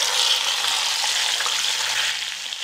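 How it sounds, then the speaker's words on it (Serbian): Meat lowered into well-heated oil in a pot sizzles loudly and steadily, a dense close-up crackle that holds for the whole stretch with no voices. "Ulje se dobro zagrejalo i sada spuštam meso na vrelo ulje."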